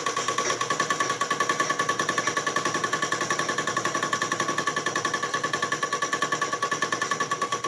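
A sewing machine stitches along the curved outer hem of an umbrella frock with a fast, even mechanical chatter of rapid repeating needle strokes, steady and close throughout, with no voices.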